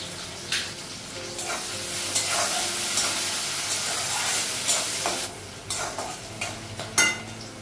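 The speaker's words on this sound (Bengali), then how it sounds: "গ্যাসটা কমানো পেঁয়াজটা ভাজা হয়ে গেছে" Onions frying in a pan on a gas stove sizzle steadily while being stirred, with repeated spatula scrapes and bursts of hissing rising and falling throughout, no talking.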